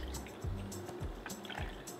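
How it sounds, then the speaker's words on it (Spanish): Canned sweetened condensed milk and evaporated milk being poured into a blender for a cookie gelatin dessert, a soft continuous liquid stream and fill sound with gentle gurgles, close and moderately quiet, no talking. "Agregamos una lata de leche condensada, una lata de leche evaporada"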